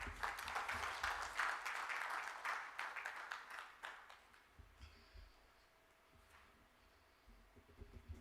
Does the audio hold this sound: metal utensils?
no